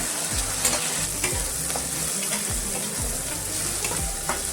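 Chopped tomato and vegetables sizzle and fry in a pan while a utensil stirs and scrapes through them in repeated strokes, steady and close.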